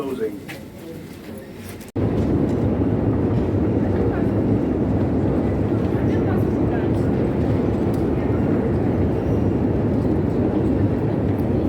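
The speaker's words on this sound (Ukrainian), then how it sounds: "Приїхала на вокзал." A train pulls into a railway station in Kyiv, a sudden loud, steady rumble and roar that cuts in after two seconds of quieter ambience and carries on without a break, with faint voices underneath.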